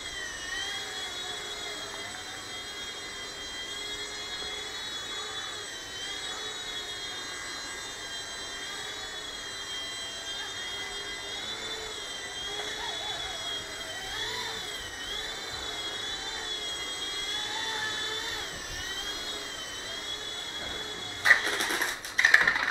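A Blade MSR X micro RC helicopter flies steadily with a thin, high motor and rotor whine that wavers in pitch as it maneuvers, ending with a few louder knocks and no talk.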